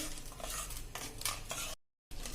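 Sugar mixture for raw mango barfi stirred continuously in a pan over a low flame, a close, hissy scraping wash that runs steadily, breaks off briefly near the end, then resumes.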